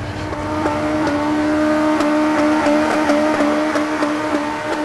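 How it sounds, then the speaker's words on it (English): An old Toyota Corolla with a race-spec engine revs hard against the rev limiter, a loud, close, steady buzzing drone with rapid stuttering cuts, heard at a car meet in Tokyo. "He assured us his race spec engine didn't mind bouncing off the rev limiter."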